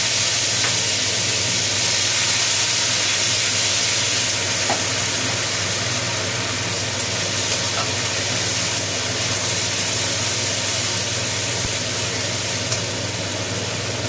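Onion paste sizzling in hot oil in a pan after fish head has been fried, a loud continuous hiss with a steady low hum underneath and no talking.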